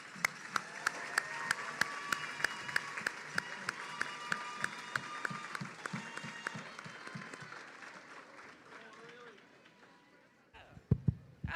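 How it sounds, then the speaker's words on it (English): Quick round of applause from the audience at a school livestock and project show auction, a steady patter of clapping with background chatter and sharp taps, fading out before a few louder knocks at the end. "If you would give them a quick round of applause."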